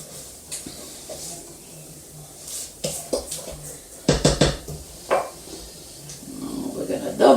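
A spatula scrapes around a mixing bowl of fruit cake batter after the mixer is stopped, giving scattered clinks and scrapes of varying loudness, with a sharper burst of knocks midway and a rising rasp at the end.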